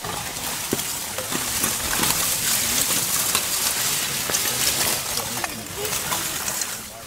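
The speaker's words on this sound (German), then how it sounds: "Glutnester werden mit Wasser gelöscht," Water poured over smouldering charcoal embers at a charcoal burners' kiln in Münzdorf gives a continuous hissing, splashing spatter, with scattered crackles and drips throughout.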